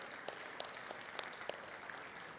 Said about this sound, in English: A huge round of applause for the Design Week on the birthday of Ahmedabad today.